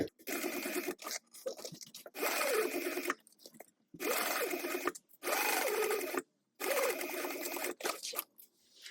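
Sewing machine top stitching with a long stitch length, running in several bursts of rapid whirring stitches separated by short pauses, close and clear.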